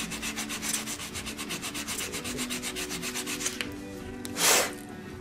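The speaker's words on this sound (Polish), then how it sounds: "trzeba przyłożyć trochę siły i dłużej pocierać, żeby zeskrobać ten chrom" Steady rhythmic rubbing scrapes chrome plating off a Scania R560 truck model part, about two strokes per second, close and fairly loud, then a brief louder scuff near the end; no one speaks.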